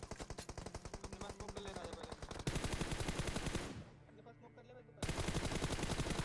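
Dense rapid-fire automatic gunfire from a mobile shooter video game rattles in long continuous bursts, cutting off briefly into quieter game sounds before the fire resumes.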